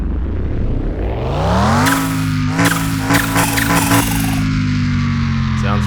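A Mitsubishi Evo IX engine in the video game Car Mechanic Simulator 2021 cranks and roars to life, then settles into a steady, loud idle with a few throttle blips, close and continuous.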